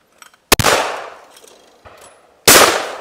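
Shotgun blasts on an outdoor sporting clays ground: two loud, sharp reports about two seconds apart, each with a long ringing decay, with faint distant sounds in the quiet between.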